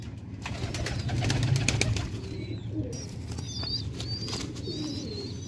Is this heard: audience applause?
no